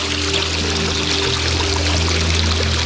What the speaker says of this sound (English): Now if I get all this kind of mucky water, pour it in.